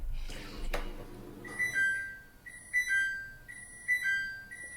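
After a short clatter, a microwave defrost alarm beeps in a repeating pattern of high double tones, close and clear, with no speech.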